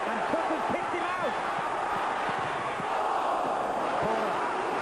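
A large football stadium crowd at an FA Cup fourth-round tie between Oxford United and Chelsea gives a steady wash of applause and cheering, with a commentator talking over it.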